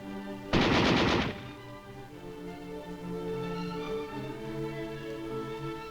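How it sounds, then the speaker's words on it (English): M60 machine gun firing 7.62 NATO rounds, a single loud rapid burst of just under a second, followed by music. "the M60 machine gun, which is replacing the old heavy and light machine guns."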